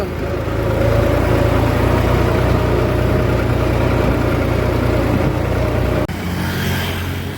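A tractor engine idles with a steady, loud low chugging throughout, then the tone shifts abruptly near the end.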